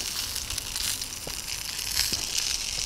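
Sausages sizzle on a small grill during an ice fishing outing, a steady bright hiss with faint crackles and pops running evenly throughout at close range.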